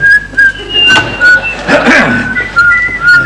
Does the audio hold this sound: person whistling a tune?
yes